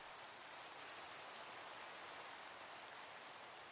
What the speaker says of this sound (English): Why is it always raining? It literally just rained.